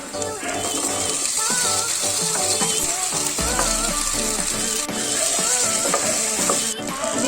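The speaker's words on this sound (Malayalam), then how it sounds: "ഫ്രൈ ചെയ്യാം." Onions browned and frying in a pan with loud continuous sizzling and crackle, stirred with a utensil throughout, a few knocks and scrapes breaking through, no talking.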